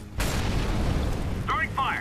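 An incendiary grenade in CS:GO bursts with a sudden boom, then gives way to a steady rushing crackle of flames, with a couple of short higher tonal blips near the end.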